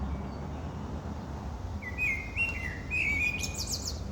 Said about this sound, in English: Even you are in London, you can hear the birds singing.